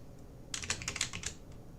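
Typing on a computer keyboard, a quick burst of about eight close, crisp key clicks lasting under a second, with faint room noise before and after.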